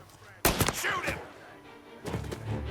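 Video game gunfire: a sharp, loud burst of shots close up, then quieter and a second cluster of shots about a second and a half later, with some game sound in between.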